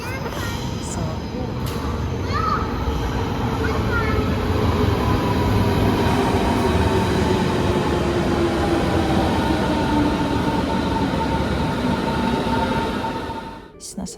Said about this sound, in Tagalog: nasa train na kami.